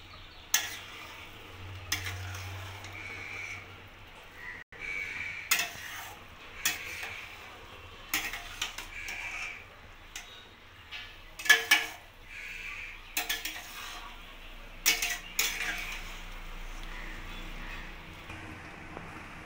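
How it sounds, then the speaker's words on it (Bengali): Lemon pulao rice being stirred in a pot on the stove, with repeated scraping and clinking strokes of a spoon against the metal over a faint background hum, close and moderately loud. "এবার ভালো করে নাড়িয়ে নেব।"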